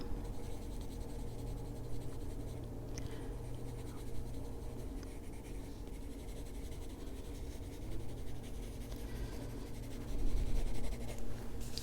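A colored pencil scratches steadily across paper in a continuous soft rasping, close and quiet, with a low room hum underneath and a slightly louder stretch near the end.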